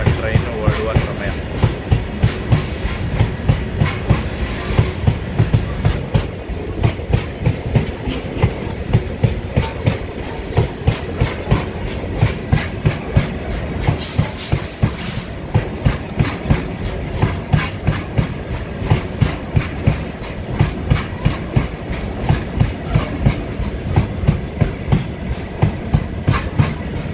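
A passenger train on the Sakleshpur–Mangalore ghat line pulls away and runs along the track, a close, steady rumble punctuated by regular rhythmic clickety-clack of wheels over rail joints throughout.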